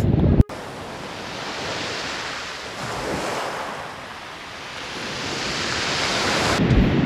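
Ocean surf at a surfing spot fills the air, a loud, continuous wash of breaking waves that swells and eases, with heavy wind buffeting the microphone and no voices.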